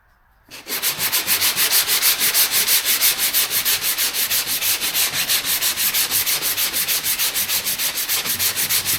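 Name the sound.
sanding car body with soft round foam sanding block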